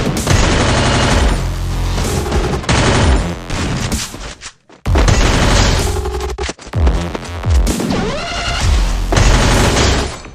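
Loud, dense gunfire from the Free Fire video game, with rapid automatic bursts and booms packed together, a brief break midway, then more heavy firing.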